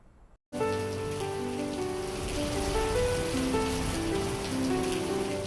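Heavy rain pours steadily during floods in Ramban, Jammu and Kashmir, a dense continuous hiss of water on surfaces that starts after a brief gap and stays loud throughout.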